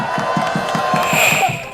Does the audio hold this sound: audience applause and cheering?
yes